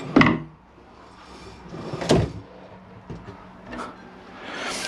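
Two sharp sliding thuds about two seconds apart, like a bottle drawer pushed open and shut aboard a 2017 Princess 52 yacht, followed by fainter rustles and a soft clunk.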